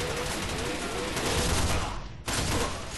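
Rapid automatic gunfire from the video game Arctic Combat rattles in dense, loud bursts that fill the clip, with a sudden brief drop and then resumed firing near the end.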